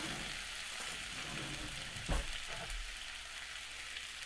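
Chopped onions caramelizing in a pan for a Latvian stew give a steady, dense sizzle and crackle, with a brief louder stir-like bump midway and no talking.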